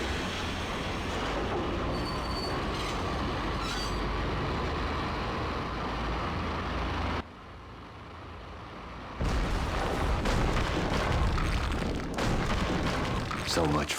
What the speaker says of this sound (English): we can board the maintenance train and bash our way through the wall into an abandoned part of the subway